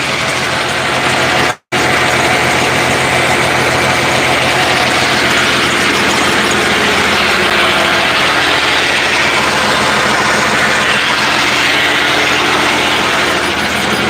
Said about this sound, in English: The PTO was trying to engage.